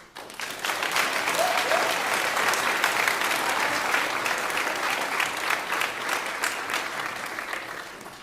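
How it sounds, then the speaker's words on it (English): Sustained audience applause at an 8th grade awards and graduation ceremony, honoring student declaimers. Dense clapping swells quickly and holds steady for about eight seconds in a large room. "Would you please give our declaimers a round of applause?"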